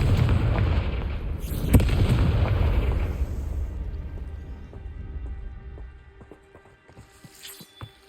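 Confringo blasting spell in Hogwarts Legacy, a heavy booming explosion with a sharp burst near the start, rumbling and decaying into scattered crackling debris and a few lighter pops.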